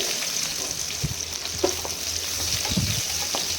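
Chopped onion frying with mustard seeds in a pan for a ridge gourd chutney, a steady soft sizzle with a few light stirring scrapes and knocks, fairly faint and free of talk.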